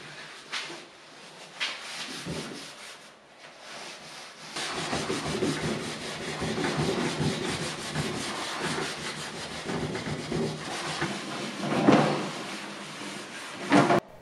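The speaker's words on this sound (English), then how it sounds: "grab some steel wool and then simply just scrub up all the residue and clean off the surface as best as you can" Steel wool with mineral spirits scrubs across a stripped vintage dresser, close repeated rubbing strokes in an uneven back-and-forth rhythm, moderately loud with brief pauses and no speech.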